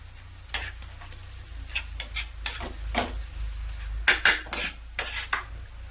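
Soft tomatoes being mashed and stirred in a sizzling pan for a tawa egg masala, a spoon or spatula tapping and scraping against the metal in irregular bursts over a steady low fry.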